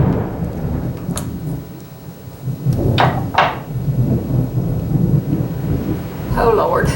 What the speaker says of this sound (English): I don't like storms.